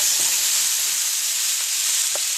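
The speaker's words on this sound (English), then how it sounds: "And now into my rather hot pan" A T-bone steak sizzles loudly and steadily in a hot pan, a dense continuous frying hiss with a few faint crackles and no talking.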